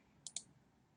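Two quick, faint clicks of a computer mouse selecting a link on a website, sharp and close together, in an otherwise quiet room.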